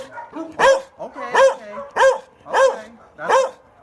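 A dog in an animal shelter kennel gives five loud, close barks at a steady, roughly even rhythm, with brief whimpery sounds between them.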